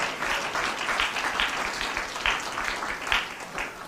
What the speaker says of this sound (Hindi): तालियां बजा करके प्रभु का धन्यवाद कीजिए